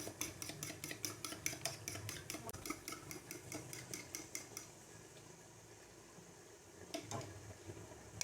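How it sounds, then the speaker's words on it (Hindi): Two eggs whisked in a bowl, a steady run of quick metallic clinks of utensil against dish that pauses partway, then a few more taps near the end; close and fairly quiet with no talking. "अभी हमने ले लेने हैं 2 अंडे और इनको हम लोगों ने इसमें डाल के तो फेंट लेना है।"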